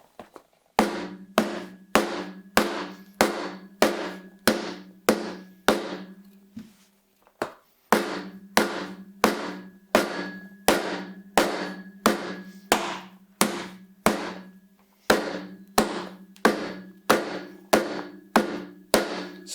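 Leather infield baseball glove being pounded to break it in, with a long run of sharp, evenly spaced thumps, close and loud, interrupted by two brief pauses.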